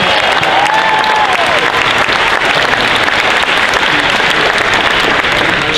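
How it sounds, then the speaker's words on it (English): Loud, sustained applause and cheering from a large crowd at the Dragon Con Friday night costume contest, dense clapping filling the whole stretch with a faint whistle-like tone drifting through. "Big round of applause for Sydney"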